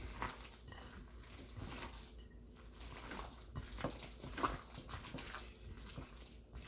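A spoon or utensil mashes a vegan crabcake mixture of mock fish fry in a bowl, giving soft, wet squelching and irregular dull taps up close at low volume, with no talking.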